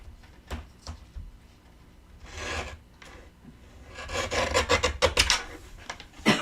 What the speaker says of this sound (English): we're going to pick a word and then we're going to trim it to 5 1/4 inches long